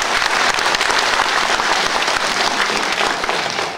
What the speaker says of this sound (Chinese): 我们掌声感谢林玲老师